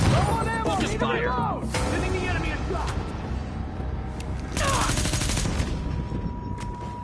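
Video game gunfire on a PS4 crackles in rapid automatic bursts with separate sharp shots, loud and close, in several clusters with brief gaps between them.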